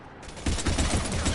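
Sustained gunfire in the Mass Effect 3 shooter, with rapid overlapping shots in a dense, loud volley that builds after a brief lead-in and continues without a break.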